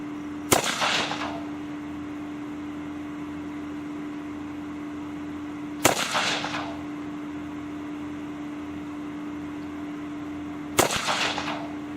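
A civilian self-loading rifle, semi-automatic only, fired three single shots about five seconds apart, each a sharp loud crack with a short echoing tail, over a steady low hum.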